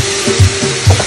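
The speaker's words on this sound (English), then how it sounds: "And then you stir it up. Get it all mixed up in it." A spoon scraping and stirring garlic paste through a simmering cow foot stew in a pot, two quick gritty strokes over a steady close sizzle.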